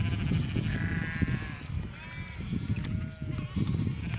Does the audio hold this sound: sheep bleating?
yes